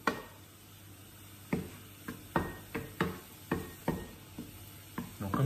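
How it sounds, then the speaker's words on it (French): Chicken and potatoes stirred in a pan as the water cooks off, a run of sharp scraping knocks and clatters at an uneven rhythm over a faint sizzle, close and loud with no talk. "On va venir mélanger."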